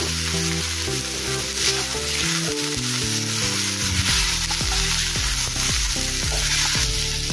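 Okra fries loudly in a pan with garam masala, red chilli powder and turmeric, a constant close sizzle with stirring under it, accompanied by background music.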